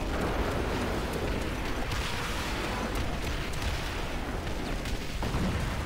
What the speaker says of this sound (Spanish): ¡Nuestros cohetes están destrozando la ciudad!